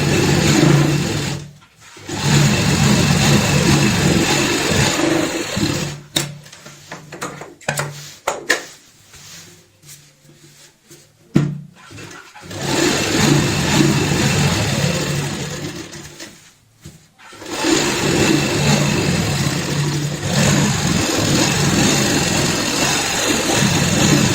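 A sewing machine stitches a bed sheet border in long, loud continuous runs, pausing briefly several times with quiet handling gaps between the stitching bursts.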